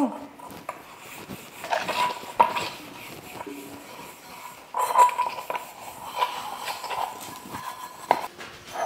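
Dishes and metal utensils clatter and scrape as they are washed and scrubbed, with continuous close rattling and occasional louder clinks.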